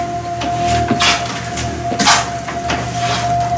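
A door opens with a couple of sharp wooden knocks and clunks, handle and latch sounds spaced about a second apart, close and fairly loud over a steady electronic hum.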